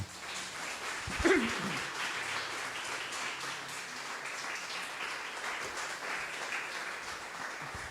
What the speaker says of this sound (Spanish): Dale un aplauso al Señor, mi hermano.